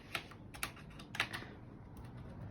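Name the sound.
typing on a mechanical computer keyboard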